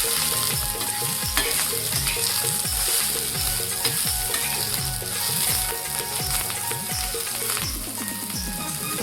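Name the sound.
garlic and coriander roasting in a pan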